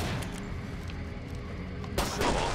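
Gunfire cracks out in Killing Floor 2 as headshots land, a few sharp shots against a noisy game background, with the loudest burst near the end.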